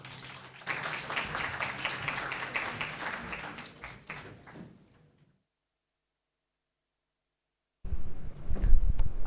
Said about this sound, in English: Another round of applause, ladies and gentlemen, for our deputy principal who shared so well with us.